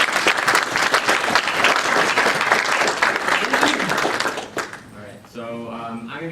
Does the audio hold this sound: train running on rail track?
no